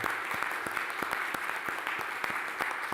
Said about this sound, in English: Please, one applause for them.